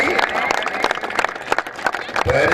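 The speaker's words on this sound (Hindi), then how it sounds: "जोरदार तालियां जी" Loud crowd applause with dense, sustained clapping at a tent-pegging (neza baazi) festival prize ceremony in Dinga, Kharian, Gujrat. An announcer's voice runs over the clapping.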